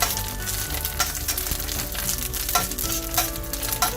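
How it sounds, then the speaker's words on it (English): Curry leaves splutter and crackle loudly in hot oil in a pan for spicy masala peanuts, a dense continuous sizzle with sharp pops and bursts throughout. "careful, curry leaves always splutter"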